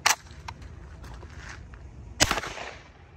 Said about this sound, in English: we're gonna shoot it with the MP-5 and see what it'll do